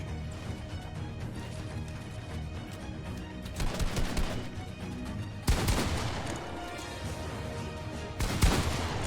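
Pump shotgun shots in Fortnite at long range, several sharp cracking blasts spaced a second or two apart over a busy game-sound background.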